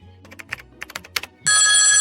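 Outgoing phone call ringing: a few quick clicks and taps on the handset, then a bright, steady electronic ring tone starts loudly and carries to the end.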